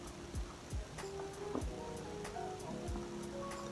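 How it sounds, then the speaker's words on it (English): Rain falling outside on a cold November day, a soft steady patter with scattered distinct drips landing nearby, faint and continuous with no talk. "It's literally raining and it looks cold outside"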